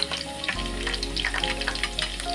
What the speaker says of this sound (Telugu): ఉల్లిగడ్డ మిక్సీ కొద్దిగా మంచిగా ఆయిల్లో వేగిన తర్వాత కరివేపాకు వేసుకోవాలి